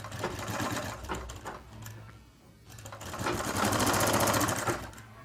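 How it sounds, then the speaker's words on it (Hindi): A sewing machine stitches the shoulder seam of a small baby shirt, running loud and close in two bursts with a brief lull between them and no voices. "जो हमारा शोल्डर के ऊपर आएगा बैक वाला हिस्सा, उसके ऊपर सिलाई लगा ले।"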